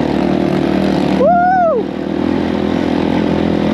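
A dirt bike revs hard on a steep offroad enduro downhill trail, its engine pitch sweeping up and back down over about half a second, loud and close, over a steady engine drone.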